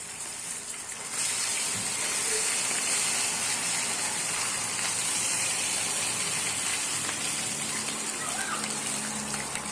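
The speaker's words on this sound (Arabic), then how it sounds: "غادي نقليهم في الزيت" Lamb leg rolls stuffed with herbs sizzle steadily in hot oil, a dense continuous hiss of frying that swells after the first second and holds loud and close, with no talk.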